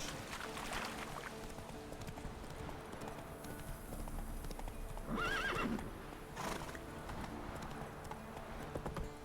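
Roach, Geralt's horse in The Witcher 3, gallops with a continuous clip-clop of hooves and lets out a couple of whinnies in the middle, steady and fairly quiet in the game world.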